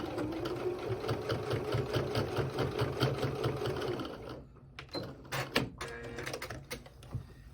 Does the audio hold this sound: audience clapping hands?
no